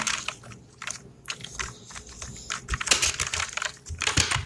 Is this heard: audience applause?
no